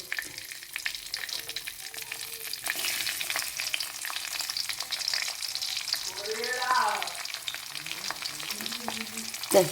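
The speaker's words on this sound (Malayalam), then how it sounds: "ഇനി ഈ ചൂടായിരിക്കുന്ന എണ്ണയിലേക്ക് നമ്മൾ അരിഞ്ഞു വെച്ചേക്കുന്ന വെളുത്തുള്ളി" Chopped garlic hits hot oil for a Malayalam-style lololikka pickle, giving a steady close sizzle with scattered stirring clicks and a brief louder burst near the middle; no one speaks.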